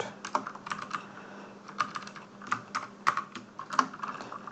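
Computer keyboard typing while entering Python code, a run of close, crisp keystrokes in uneven bursts with short pauses, alone without speech.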